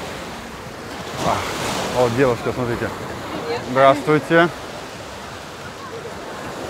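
Sea surf rolling onto a crowded beach at Anapa on the Black Sea coast, a steady broadband wash with wind noise running throughout, while someone speaks briefly over it in the middle.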